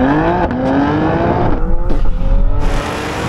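Race cars launching hard from a standing start, engines revving up through rising gear whines with a burst of tire noise, close and loud, then shifting as they pull away.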